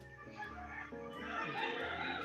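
Roosters crowing and clucking at early morning, fairly near but recorded at low level, with overlapping calls rising and stretching over a couple of seconds.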